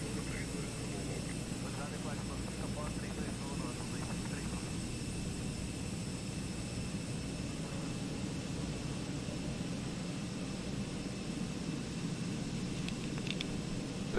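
A Fenix Airbus A320 in Microsoft Flight Simulator gives a steady engine roar on takeoff, with broadband rushing noise throughout and a faint voice in the background.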